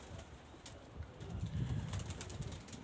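Pigeons coo softly on a town market square on a Sunday, low murmuring calls rising midway through under faint outdoor ambience, with a light flutter and no talk.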